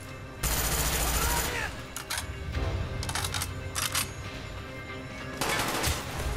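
Rapid bursts of gunfire from the video game Call of Duty Black Ops, loud and dense, recurring in several volleys across the clip with brief lulls between them.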